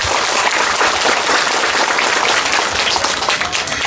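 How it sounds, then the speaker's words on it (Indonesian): Applause from the audience at a Ramadan religious lecture, a dense, steady round of clapping that fills the whole stretch at even loudness with no talk over it. "saya minta tepuk tangan dulu dong sama panitia."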